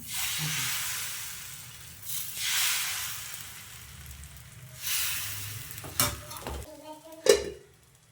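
Dill neer dosa batter hitting a hot tawa, with soft hissing sizzle swells that rise and fade, then a few sharp metallic clinks and scrapes of a utensil near the end.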